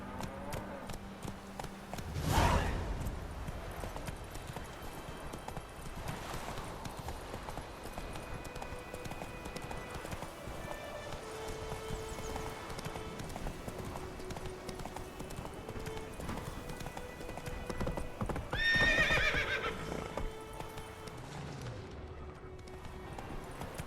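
Roach the horse gallops in The Witcher 3, with steady rhythmic hoofbeats running through the whole stretch, a few louder thuds, and a brief neigh near the end, set under quiet background game sound.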